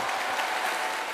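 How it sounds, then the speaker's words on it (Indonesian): Dense studio audience applause at a televised talk show, a loud, steady wash of many hands clapping close by, with no voices over it. "Jadi kita mesti kasih tepuk tangan untuk Mutia sebetulnya."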